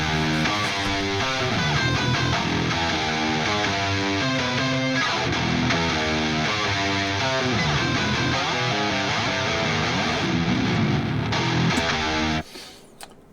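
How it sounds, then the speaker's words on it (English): Two layered electric guitars from the Axure virtual instrument on its rhythm preset, heavily distorted and dense, play a steady riff with no other instruments, then cut off abruptly near the end. "what you heard were two separate sets of guitars"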